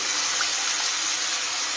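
Cut eggplant pieces, lifted wet from soaking water, go into a hot pan on the stove, setting off a loud, steady, close sizzling hiss with no pause.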